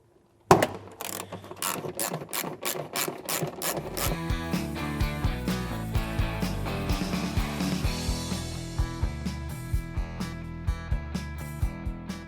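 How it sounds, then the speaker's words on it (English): A hand socket ratchet loosens 10mm bolts under the bumper of a Toyota Land Cruiser 70 Series, giving a steady run of rapid clicking that starts with a few separate strokes and then speeds into continuous ratcheting, close and loud. "You'll grab your socket and you can undo them."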